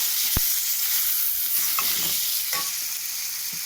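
Spices with chopped tomato, turmeric and salt frying in a pan, a continuous sizzle with a sharp knock of a utensil early on and some stirring scrapes, no talking.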